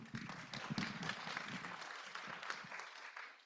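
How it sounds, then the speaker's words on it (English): At a scientific networks meeting, an audience applauds after a talk with moderate, continuous clapping from a fairly sized crowd, slightly distant and soft throughout. "Let's applaud her."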